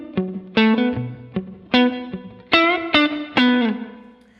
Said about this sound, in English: So good, short, splashy reverb,